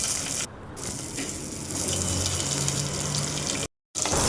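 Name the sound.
small onions sautéing in oil for village fish curry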